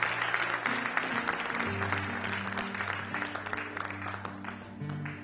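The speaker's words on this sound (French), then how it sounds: "Est-ce qu'on peut donner une bonne main d'applaudissement à ceux et celles qui s'avancent?" Applause from a church congregation, steady clapping throughout with sustained organ or keyboard chords sounding underneath.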